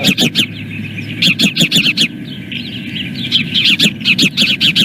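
An osprey calls at its nest, loud and close, in repeated rapid bursts of shrill chirping whistles, a brief pause, then further call series.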